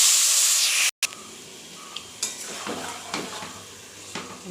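Marinated mutton drops into hot oil with blackened cumin and spices, a loud hissing sizzle right after a brief cut, followed by a few soft stirring clinks and scrapes against the pot.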